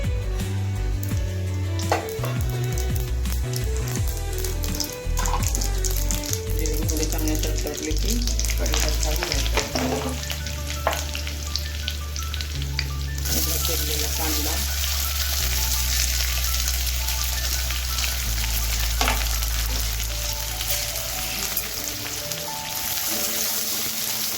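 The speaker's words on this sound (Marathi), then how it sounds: "तेल टाकलं की आपल्याला मोहरी जिऱ्याची फोडणी द्यायची" Mustard seeds and cumin crackle and spit in hot oil for a soybean vegetable dish, a dense, continuous, rain-like sizzle with scattered pops and a low hum underneath, close and steady throughout.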